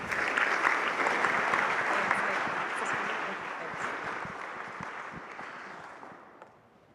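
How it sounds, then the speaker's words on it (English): An audience at a startup demo day event applauds, a dense and fairly loud burst of clapping that holds steady before fading out toward the end, with no talk over it. "please give a round of applause for Col David Shahady and Ms. Candace Delmon"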